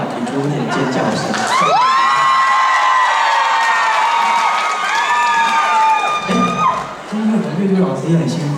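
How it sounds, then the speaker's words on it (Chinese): A concert crowd screams and cheers loudly, high sustained shrieks swelling into a long collective scream, then settling into mixed shouting near the end. "也给我点尖叫声"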